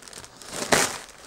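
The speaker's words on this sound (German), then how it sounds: "Deswegen werden wir erstmal die Tüte hier aufmachen." A plastic mailing bag is torn open, a short close crinkle that peaks in one loud ripping rustle before fading.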